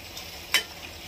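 Chicken pieces frying in a pan for green masala curry, a soft steady sizzle with a single brief stir or scrape near the middle, close and fairly quiet with no talking.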